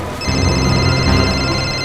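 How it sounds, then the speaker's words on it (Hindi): A phone rings loudly and steadily with a repeating electronic tone, continuous and close, no voices present. "शिशिर का फोन, ये तो शिशिर का फोन है।"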